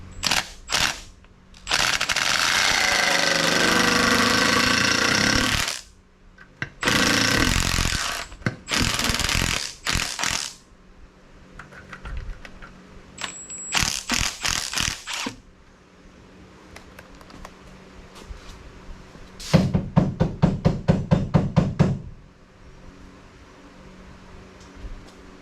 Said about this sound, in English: Now we're going to go ahead and take the valve cover off.